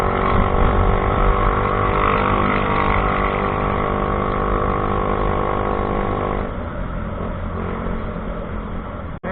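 Honda Beat fuel-injected scooter engine droning steadily and loudly while overtaking on a rural road, with a continuous hum and wind rush that eases slightly near the end.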